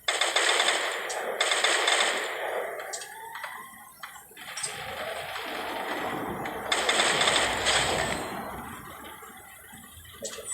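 Rapid automatic gunfire from a video game shooter rattles in repeated loud bursts, broken by brief pauses and lighter single shots, with game sound in between.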